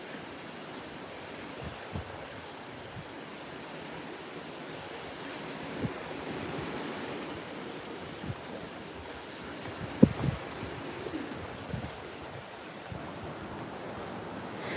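Atlantic Ocean waves and wind heard from a cruise ship at sea, a continuous broad rushing wash with gusty buffeting and a few soft thumps, steady and fairly quiet, with no talking.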